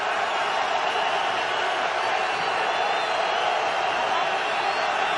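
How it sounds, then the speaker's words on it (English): A football stadium crowd at an NFL game roars in a continuous loud wash of cheering noise, with a commentator's voice faintly underneath. "Crowd getting back into it."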